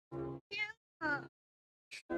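Several short cat meows from a video game, spaced apart with pauses between them, fairly clear and close with no talking over them.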